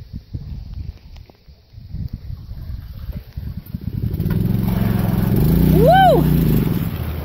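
A small maple sap transfer pump starts and runs, its motor rising from quiet rustling and brief talk into a steady, fairly close engine-like drone, with a short whining pitch sweep near the end.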